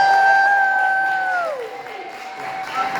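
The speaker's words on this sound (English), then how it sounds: "so let's do a round of applause." Party crowd cheering and applauding, with a voice holding a sustained note that slides downward over a broad wash of claps and shouts.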